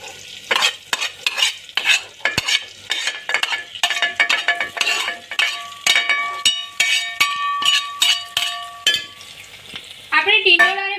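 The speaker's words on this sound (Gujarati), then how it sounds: "ટીંડોળા આપણે આમાં એડ કરીએ" Roasted ivy gourd pieces tipped into a pressure cooker with potatoes and stirred: repeated scraping strokes and metallic clinks over a steady sizzle, with a brief higher warbling sound near the end.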